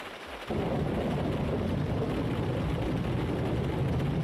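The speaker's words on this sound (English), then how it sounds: "I don't think I've ever heard lightning in AMS2 before" A sudden heavy rumble of thunder breaks in after a short quiet moment during a rainstorm in the racing game Automobilista 2 (AMS2), then holds as a loud, deep, continuous roll to the end.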